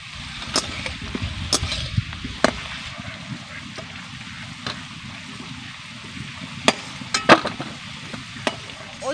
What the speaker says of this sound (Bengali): আলুগুলোকে আমি 3 মিনিট মতন সময় ধরে ভেজে নেব।